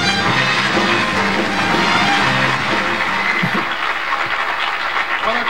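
Studio audience applause from a 1974 Carson show, a dense, steady wash of clapping that fills the whole stretch at a loud, even level before easing slightly near the end.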